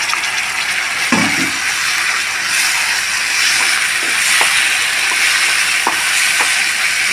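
A spice mixture for pepper egg roast fries in a pan with a loud, steady, close sizzle and hiss that runs throughout, broken by a few soft scrapes of stirring.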